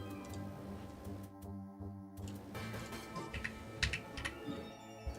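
Clicky typing on a freshly fixed computer keyboard, a run of irregular keystrokes close up over a steady background hum, with no talking.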